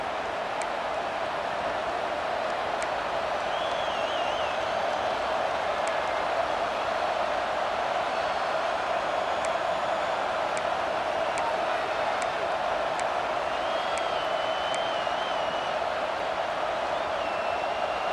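Stadium crowd in EA Sports College Football 26, a huge home crowd of over 100,000 in the Big House on a third down, as a steady, loud, continuous roar and din with faint whistle-like tones throughout and no voices on top.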